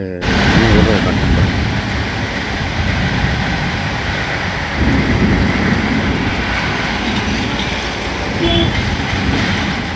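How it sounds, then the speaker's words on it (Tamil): Rain falling in strong wind behind a house: a loud, continuous broadband roar of wind-driven rain and gusts that stays steady throughout, with a person talking faintly underneath. "காற்றடிக்கிறனால மழை ரொம்ப கம்மியாக விழுகிற மாதிரி இருக்குது"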